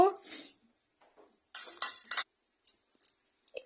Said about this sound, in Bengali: পেঁয়াজটাকে ভালো করে কুচিয়ে নিব